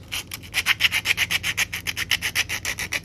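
Sandpaper scuffs the plastic surface of a Star Wars DH-17 blaster kit part in quick, rhythmic back-and-forth strokes, about a dozen close, crisp rasps with no voices.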